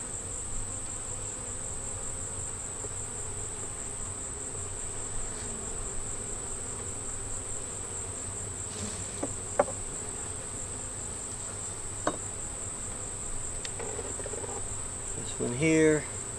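Honey bees on a beehive frame give off a constant high buzzing hum throughout, close and steady, with occasional clicks and handling noises and a brief voice at the very end.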